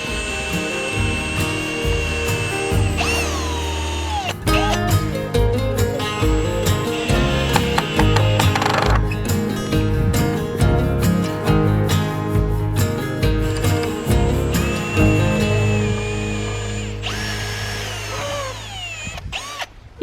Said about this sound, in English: So yeah, I'm just going to drill a pilot hole.